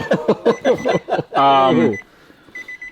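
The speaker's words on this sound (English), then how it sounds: "There's a beep." An electronic beep sounds from a car's wiring harnesses during the rebuild of an old first car, a thin, steady tone running under a burst of voice and laughter and then left nearly alone, faintly pulsing at the end.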